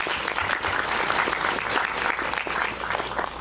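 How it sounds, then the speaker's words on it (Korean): An audience applauds at a film screening and discussion, steady dense clapping from a crowd in a hall, moderately loud and sustained throughout. "그 사장 역할로 나오셨던 이수영 배우님 네, 박수 좀 부탁드릴게요."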